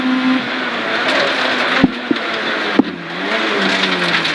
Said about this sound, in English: That's some braking, boy.